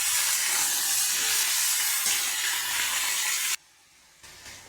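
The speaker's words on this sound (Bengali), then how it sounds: "আমি সবজিটা ভালো করে ভেজে নেব।" Chopped beans, potato and eggplant fry in a pan with a loud, steady hiss and sizzle that suddenly drops to a faint crackle near the end.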